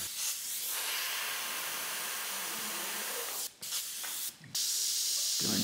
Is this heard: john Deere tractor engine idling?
no